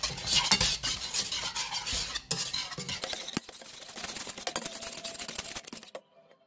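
Eggs are stirred in a pan with a utensil, giving busy, close scraping and clinking against the metal over a faint sizzle. The sound stops abruptly near the end, and no one speaks.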